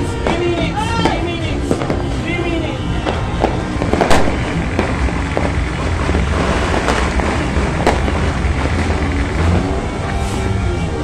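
Dense New Year's fireworks crackle and pop in rapid, overlapping bursts with sharp bangs, loud and close throughout, with occasional voices shouting underneath.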